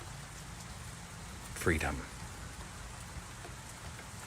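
Soft, steady rain patters quietly in the background while a calm voice speaks a single word.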